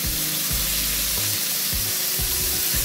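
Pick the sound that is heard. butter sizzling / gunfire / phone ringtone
butter sizzling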